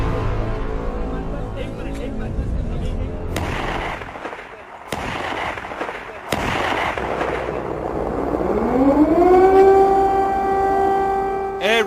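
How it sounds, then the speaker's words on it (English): Air raid sirens wail across Kyiv, Ukraine, at the start of a full-scale invasion, a rising and sustained tone building in the latter half over city noise and several sharp bangs, with talk beneath. "Air raid sirens go off in Ukraine's capital Kiev"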